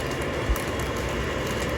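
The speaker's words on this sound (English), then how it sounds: "let's hope she doesn't derail. I haven't ran this train." A Pro 3-converted model train that has not run in three years rolls along its track, a steady whirring hum with a single soft bump.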